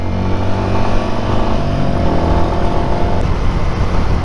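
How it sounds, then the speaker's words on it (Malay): A motorcycle engine roars loudly and steadily nearby, its rumbling drone shifting slightly in pitch as it rides past. "Laju juga budak bawa motor."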